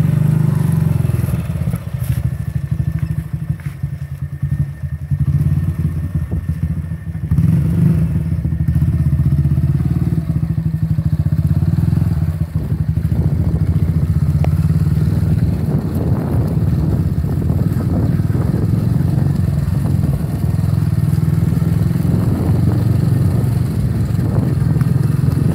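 A motorcycle ridden by a 14-year-old learning to ride rumbles steadily nearby, its engine note rising and falling as it maneuvers, with wind buffeting the microphone and occasional clattering thumps.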